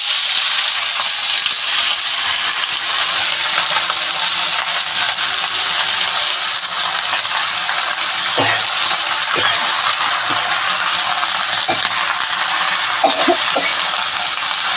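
Pumpkin flowers fry in hot mustard oil in a wok, giving a steady, loud sizzling hiss throughout with a few faint stirring knocks, and no talk.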